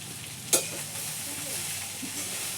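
Poha stirred in a pan over a wood-fired chulha, a steady soft sizzle with one sharp clank of utensil against metal, close and even throughout, with no talking.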